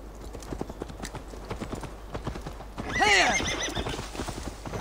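Horse in the Viking-era video game Assassin's Creed Valhalla, with steady clip-clop hoofbeats throughout and a loud, sweeping whinny about two-thirds of the way in, heard alone without talk.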